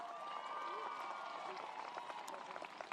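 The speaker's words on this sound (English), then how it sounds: "Let's give these nominees a round of applause." Audience applause for nominees at a high school graduation ceremony, a dense steady wash of clapping with some crowd noise that holds throughout.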